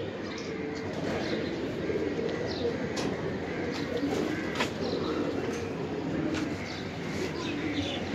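Birmingham roller pigeons cooing in a loft, soft repeated low coos layered over one another with a few faint chirps, set against a steady background hum.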